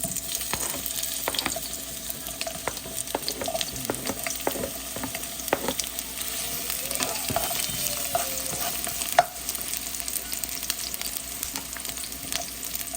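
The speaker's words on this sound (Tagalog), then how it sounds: "ilalagay na natin, igigisa na natin ang sibuyas at bawang" Onion and garlic sizzle and fry in a pan for a Filipino ginataang langka dish, with a steady hiss and repeated clicks and scrapes of stirring throughout, close and moderately loud with no talking.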